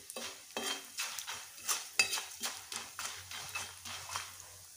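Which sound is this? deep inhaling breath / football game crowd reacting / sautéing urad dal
sautéing urad dal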